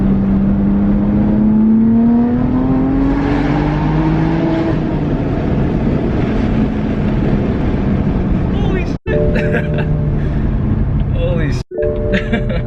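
A BMW F80 M3 with a Bootmod3 Stage 2 tune pulling hard, engine pitch rising through gears with sharp pops near the end, heard loudly from inside the cabin while a person talks over it.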